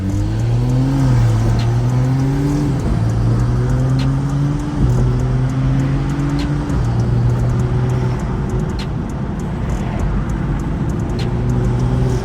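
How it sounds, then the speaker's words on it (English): A BMW with an N55 engine on a flex fuel kit pulling hard, loud interior engine drone rising in pitch through each gear then dropping at the shifts, several successive pulls. "So I'll do some pulls so you guys can see how it feels."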